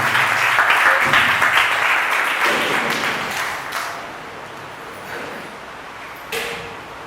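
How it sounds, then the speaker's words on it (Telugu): An audience at a Christian prayer gathering claps loudly at first, then the applause thins and fades to scattered claps and quiet room noise, with one final sharp clap near the end. "కనీసం చప్పట్లు కొట్టి ఆనందించున్నాను."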